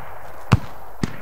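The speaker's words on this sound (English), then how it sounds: "Grenade out." Grenade blasts in a shooter video game: two short, sharp booms about half a second apart, the first louder than the second, standing out against a quiet background.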